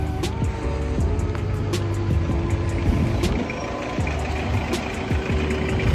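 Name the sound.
cars moving on road next to supermarket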